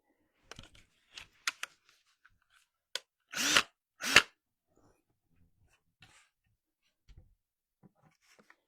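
Ryobi power drill boring a hole through a chalk-transfer door sign, two short loud bursts of whirring close by, separated by a brief pause, with faint handling clicks before and after.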